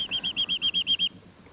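Music box imitating a nightingale's song, a quick run of eight evenly spaced bright whistled notes, close and clear over soft low background, then stopping.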